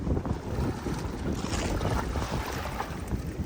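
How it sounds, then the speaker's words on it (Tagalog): A strong northeast monsoon wind, the amihan, blows over the sea past a boat, giving a continuous loud roar and heavy buffeting on the microphone with low rumbling gusts and no pauses. "Grabe lakas talaga ng amihan"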